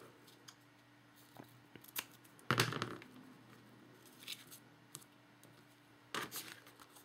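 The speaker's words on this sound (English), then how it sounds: "just give it a little trim here, as well as here." Scissors trim a paper card craft with a few crisp snips, including one longer cutting stroke, close and fairly quiet over a steady low hum.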